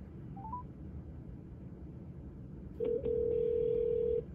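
Single-tone and dual-tone telephone beeps from a phone call test run through a Bass Jaxx Radiant Bluetooth speaker: a few short rising blips, then a loud sustained tone holding for over a second against a steady background hiss.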